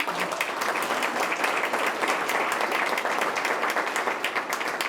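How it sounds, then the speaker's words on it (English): An audience claps steadily in a dense, sustained wash of applause at an arts and culture event, even and moderately loud for several seconds. "And while I appreciate the applause"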